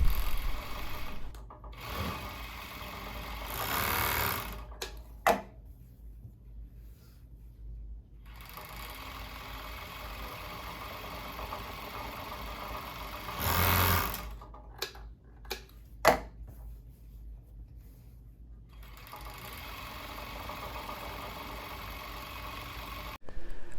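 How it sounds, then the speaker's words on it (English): A serger overlocks the edges of non-stretch skirt pieces, running in several bursts of rapid mechanical stitching separated by quiet pauses, close and moderately loud. "The next step is to finish all the edges of all the pieces with a serger."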